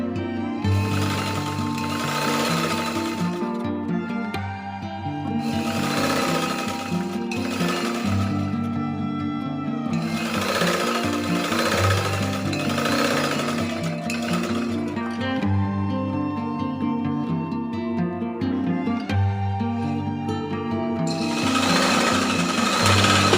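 A domestic sewing machine runs in long steady bursts as both edges of cut cloth are folded over and stitched, a close mechanical whir with brief pauses between runs, no speech.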